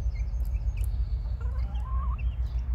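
Ornamental hens cluck and chirp steadily while eating their morning feed, several birds close by over a constant low rumbling background, with no talking.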